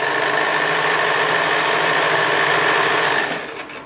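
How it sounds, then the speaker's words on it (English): A sewing machine stitches a double-folded one-inch hem close to the fabric edge, running at a steady, continuous whir nearby before slowing and easing off at the end. "this time we're going to sew very close to the edge"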